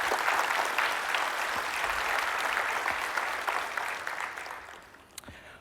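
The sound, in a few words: conference audience applause for sponsors and speakers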